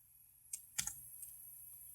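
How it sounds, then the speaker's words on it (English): A few quiet, isolated clicks of keys on a computer keyboard, two or three sharp taps close together near the middle against a faint hum. "and then I'll type"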